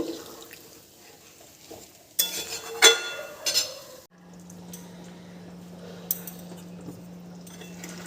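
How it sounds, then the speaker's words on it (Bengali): A spoon stirring a vegetarian elephant-foot-yam dalna in a pan after water is added: a short burst of scraping clinks, then a quieter steady simmering hiss. "একটু নেড়ে দেব"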